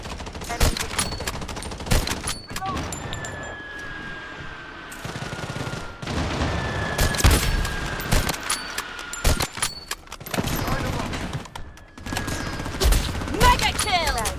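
Rapid bursts of gunfire crackle through a Bloodstrike battle royale match, loud staccato volleys and single shots broken by short pauses, with game voice prompts and a high whistling tone heard between the shots.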